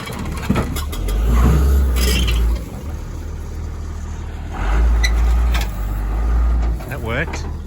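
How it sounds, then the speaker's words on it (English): A heavy machine at an auto wrecking yard in Colorado drags a scrapped car by its wheel, its diesel engine surging loudly in two long revving bursts with quieter idling between, while people talk over it. "He's going to move the whole vehicle to get some pressure on that wheel to kind of drag it off."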